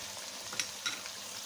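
Chicken karahi with fresh cream sizzles softly in a pan as it is mixed, a faint hissing bed with two brief scraping stirs close together.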